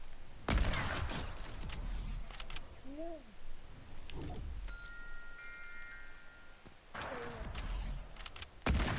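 Sharp gunshots in Fortnite Battle Royale, a loud crack near the start and another burst later with scattered weapon clicks and jingles between, plus brief rising game tones mid-clip.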